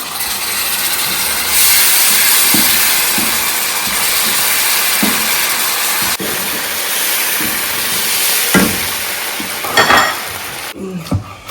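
Dawadawa goes into a hot jollof pot and sets off a steady, loud sizzle and hiss. Occasional clicks and knocks of utensils break through, and a couple of sharper clatters come near the end.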